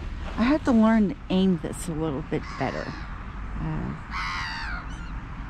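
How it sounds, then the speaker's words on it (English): Several harsh caws from a couple of crows ring out close by on a ramp at a shopping center in quick succession, then someone speaks over faint background hum. "There's a couple of crows there."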